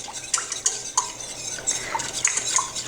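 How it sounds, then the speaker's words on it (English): A spoon stirs turmeric tea spices into milk heating in a pot, making light, repeated clinks and scrapes against the metal at a steady, unhurried pace, close and clear with no talking. "I like to kind of keep stirring it to let the spices kind of dissolve in the milk"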